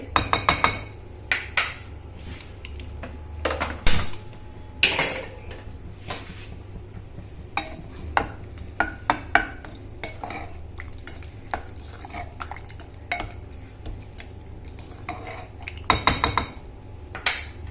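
A spoon stirs and scrapes through pav bhaji with coriander and butter in a pot, producing repeated metallic clinks and knocks at an irregular rhythm over a low hum, close by and without speech.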